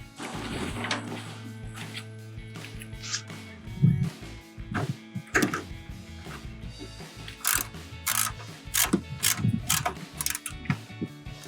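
A ratchet tightens the headlight screws on a 2011-2014 Dodge Charger projector headlight, with irregular clicking and clattering handling noises close up.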